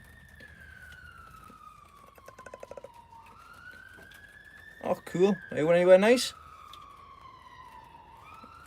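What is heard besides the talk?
emergency vehicle siren passing by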